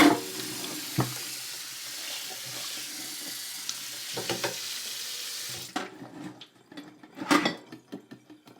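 Water runs from a kitchen tap into a sink to rinse a cutting board, a steady hiss for most of the stretch that stops partway, followed by scattered clunks and splashes.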